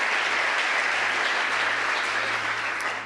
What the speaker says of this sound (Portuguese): Os que podem dar a Jesus uma linda salva de palmas